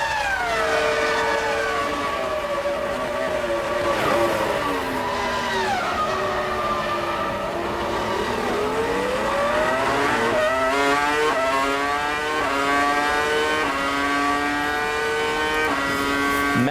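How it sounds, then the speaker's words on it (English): A Ferrari Formula One car from the 2003 season races down the straight at Monza, its high-pitched V10 engine screaming loudly and steadily through gearshifts, the pitch dipping and climbing again as it rushes past. "Massive straight line speed as we listen to the Ferrari."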